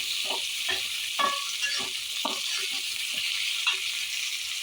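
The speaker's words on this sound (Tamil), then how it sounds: "தக்காளி போட்டு நல்லா வதக்கியாச்சு" Tomatoes sautéing in a hot pan with garlic and onion, an even sizzle under repeated scraping stirs in a loose rhythm, close and moderately loud, without speech.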